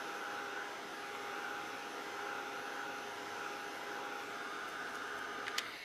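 A hair dryer blows steadily while a craft project is dried, its faint whirring hiss continuous and even, ending with a couple of light clicks.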